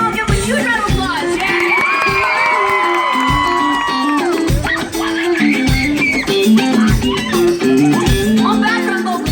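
A concert crowd at Elitch Gardens cheers and claps for a band introduction at a show, with shrill shouts and whoops over steady applause throughout, close and loud.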